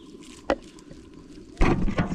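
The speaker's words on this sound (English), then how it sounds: "So I'm going to wash with this water here." Fresh medicinal herb leaves are rinsed by hand in water, with a short sharp splash followed by a longer burst of sloshing and dripping close by.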